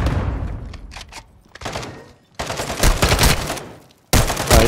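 Gunfire in the Call of Duty: Modern Warfare II mission to capture El Sin Nombre comes as a few sharp shots early on. Two loud, dense bursts of rapid fire follow, with brief near thuds in between.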